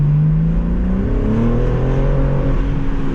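Under hard acceleration, a BMW G80 M3 with a stock exhaust and manual gearbox revs up in a smooth, rising whine, loud and close, with no talking.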